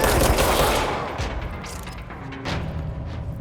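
Rapid gunfire from the Control video game, a dense burst of shots at the start that thins into scattered, fainter reports.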